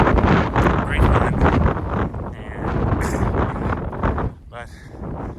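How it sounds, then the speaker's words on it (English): Heavy Santa Ana wind buffets the microphone in loud, roaring gusts on a trail, with brief flapping and rustling bursts mixed in. "It's really windy today."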